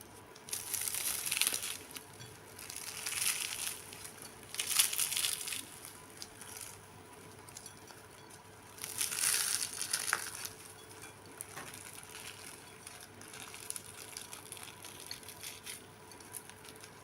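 Flaky, layered Azerbaijani shor-gogal pastry crunches close up in several loud, crisp bursts, spaced a few seconds apart, with softer crumbling and crackling between them and no talking.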